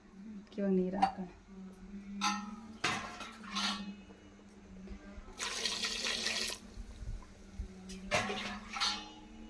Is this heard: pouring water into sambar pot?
yes